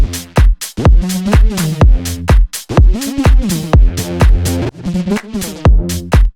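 Electronic music plays with a delay effect running constantly, its repeated echoes trailing behind short punchy chords and beats in a steady, choppy rhythm, loud and without any voice.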